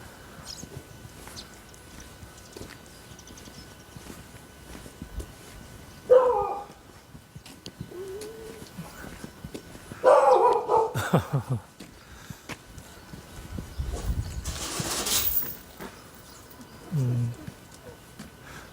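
A Jindo mixed-breed dog barks and yelps in short excited bursts as walkers pass outdoors, a few loud clusters spaced apart over quiet rustling background.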